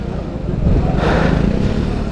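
A BMW motorcycle engine rumbles and revs through a water crossing on the Manali–Leh road, loud and close, swelling briefly mid-clip over steady background noise.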